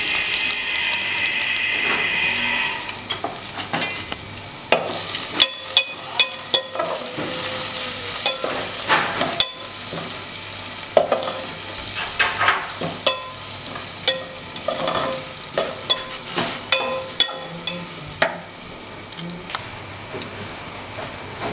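Green chillies and ginger garlic paste fry in hot oil, a steady sizzle broken by repeated scraping and clinking stirs of a spoon against the pan, close and fairly loud with no talking.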